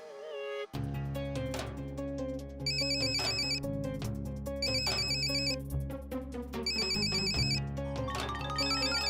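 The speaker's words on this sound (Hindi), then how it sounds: "गोरा लाला का फोन आ गया।" A mobile phone ringtone plays loud and continuous, a bright repeating electronic melody with a steady rhythm over a bass-heavy musical backing, heard alone without talk.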